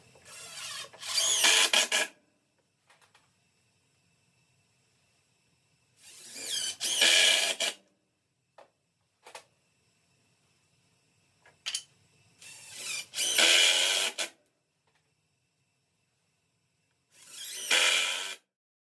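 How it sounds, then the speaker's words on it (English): A DeWalt screw gun runs in four separate bursts, each lasting about one to two seconds, with short quiet gaps between them. It sits up close while work is under way on a new fuel tank mount, with no talking. "got my DeWalt screw gun here"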